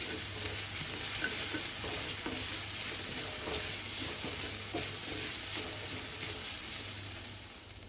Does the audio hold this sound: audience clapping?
no